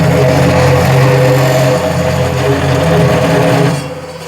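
A metal-cutting cold saw fitted with a brand new blade grinds through metal in a loud, close, steady droning hum that eases off in the final moments.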